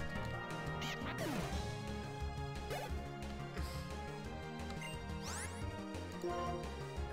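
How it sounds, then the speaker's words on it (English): A duck quacks in a trash-can-searching video game, heard as several short quacks scattered over a busy, loud bed of game music and crashing effects. "Holy shit, it's a duck."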